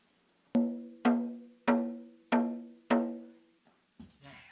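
Drum struck five times at an even pace, each booming hit ringing and decaying before the next, followed by a couple of softer, quieter taps at the end.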